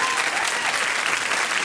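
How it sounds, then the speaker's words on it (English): A live show audience gives a steady, dense round of applause, a continuous wash of clapping filling the whole moment without any break. "Give them a round of applause."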